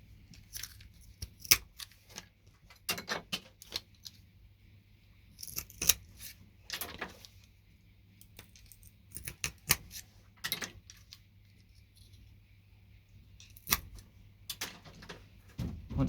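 Cutters snipping blob chips off a computer motherboard, producing sharp, irregular clicks and snaps in short bursts separated by quiet gaps, close by.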